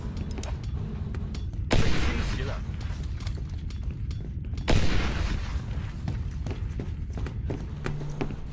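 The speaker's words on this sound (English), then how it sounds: "I will use the grenade." Two heavy booms of grenade explosions in the shooter game IGI 2, about three seconds apart, each followed by a rumbling decay over constant game ambience and scattered sharp clicks.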